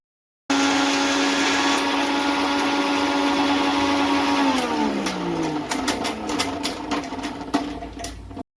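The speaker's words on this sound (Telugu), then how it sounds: "సో ఇలా అన్నీ వేసుకొని ఒక్కసారి మిక్సీ పట్టుకోవాలి" A kitchen mixie grinder whirs loudly, grinding dried amla pieces with other ingredients; the steady motor drone drops in pitch partway as the load catches, then rattles and clicks as hard bits tumble until it stops.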